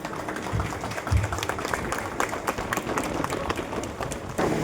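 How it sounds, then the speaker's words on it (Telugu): Scattered clapping from an audience welcoming a teacher at a felicitation ceremony, uneven and moderately loud, with a few sharper claps standing out against the general patter. "గురువు గారికి ఘనమైన చప్పట్లతో స్వాగతం పలుకుతాం."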